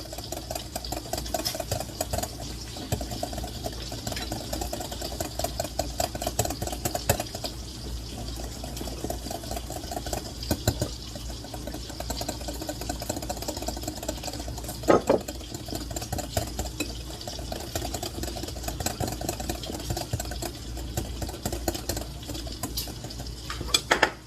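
Melted butter being stirred into a sauce for eggs Benedict, a steady close clatter and scrape of utensil against the pot with soft liquid sloshing and no talk.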